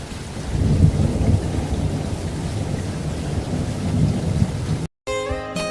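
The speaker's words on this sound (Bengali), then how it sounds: "বৃষ্টি নামতে থাকে" Steady rain pours down with a low rumble of thunder underneath, then cuts off abruptly near the end as a tonal musical sound begins.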